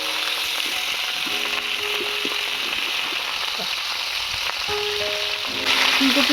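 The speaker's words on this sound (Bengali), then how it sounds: "এবারে ফুলকপিগুলো ভেজে নেব।" Cauliflower florets, seasoned with salt and turmeric, fry in a pan with a steady close sizzle and crackle that runs the whole time, with occasional soft clinks and stirring underneath.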